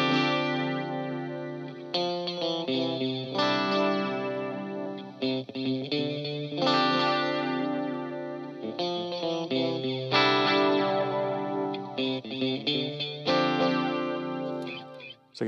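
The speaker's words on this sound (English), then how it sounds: "It's just the wow and flutter effect of tape, and it's emulated quite well in the triple delay." Electric guitar runs through a Flashback Triple Delay pedal on its tape setting, its repeated notes and chords wavering with wow and flutter as the echoes stack up, steady and moderately loud with no talking.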